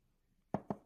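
Three sharp knocks on a door in quick succession, close and fairly loud after a quiet stretch, with no talking.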